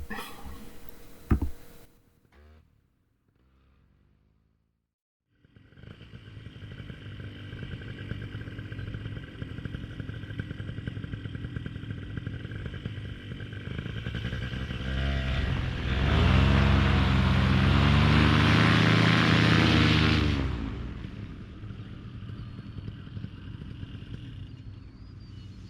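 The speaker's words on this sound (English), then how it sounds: "let you watch this aborted takeoff" A small airplane's engine drones on an aborted takeoff, first with a brief clatter and a short pause, then a steady rumble that swells to a loud, rough roar before easing back down.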